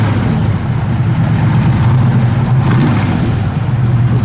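A 1971 Chevrolet Nova SS with a 350 engine, 2.5-inch mandrel-bent headers and dual exhaust, running loud and close with a deep, steady throbbing burble.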